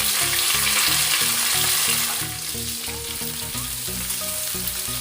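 Onions and curry leaves fry in hot oil for a Tamil turkey berry kara kuzhambu, giving a loud, steady sizzle with stirring clatter close by and no voices.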